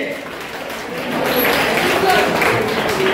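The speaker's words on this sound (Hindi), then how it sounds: "जोरदार तालियां फहीम सर के लिए।" Applause rises from a crowd at a school's annual sports day mass drill, swelling after the first second into a sustained wash of clapping that carries on under a loudspeaker announcer's voice.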